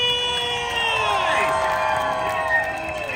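Loud crowd cheering and whooping at a lively outdoor event in New York, with many voices blending into a continuous roar and scattered tonal shouts rising and falling throughout.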